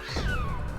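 A single drawn-out cat meow from a video game, clear and close, lasting under a second with no talk over it.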